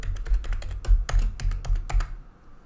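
Password being typed on a computer keyboard: a quick run of about a dozen close, crisp key taps in an uneven rhythm, then quiet, with no speech.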